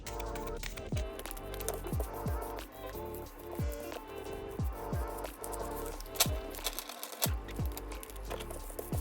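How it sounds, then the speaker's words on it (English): Tarot cards of the major arcana being shuffled by hand, a fast run of crisp, rhythmic riffling taps and slaps close up, steady throughout. "I am going to shuffle this card right now."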